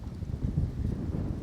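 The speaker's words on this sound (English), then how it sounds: "Boy, it's very windy here today." Wind buffets a microphone outdoors during a survival-gear review, a steady low rumbling roar with gusty swells and no clear gaps.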